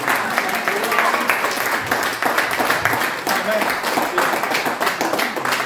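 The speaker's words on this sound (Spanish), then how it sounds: "Si le va a aplaudir, aplaude fuerte, por favor" Sustained clapping comes from a church congregation at an anniversary service, a steady, fairly loud round with a voice speaking over it at times.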